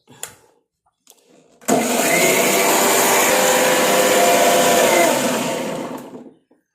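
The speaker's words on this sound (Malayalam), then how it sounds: "നല്ല പോലെ അരച്ചെടുക്കും" A mixer grinder starts up and runs loud and steady for several seconds, grinding curry ingredients for a prawn curry, then winds down; faint knocks come before it starts.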